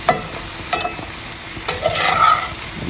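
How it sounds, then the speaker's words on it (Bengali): Salmon fries in a pan with loud, close sizzling, broken by a few sharp spatula scrapes and stirring clatters, with no speech. "এদিকে ভাজা হচ্ছে স্যামন"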